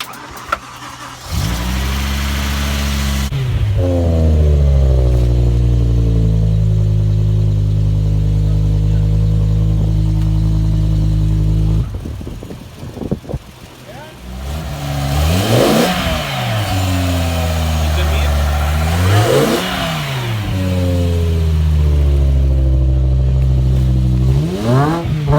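A supercharged BMW E60 M5 engine idles loudly and close, with sustained droning stretches broken by several sharp rev blips that rise and fall, then settles back to a steady idle.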